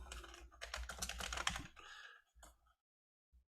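Computer keyboard typing during an online political party meeting: a quick run of dense, close key clatter that thins out, then a couple of isolated keystrokes after a pause.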